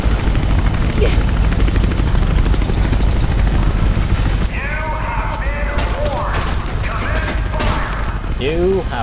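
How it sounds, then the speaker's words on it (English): A helicopter in the first-person parkour game Mirror's Edge thrums loudly and steadily through the whole stretch, its rotor chop dense and close, while a player talks over it and game voices and bursts of gunfire sound faintly. "Chopper spotted."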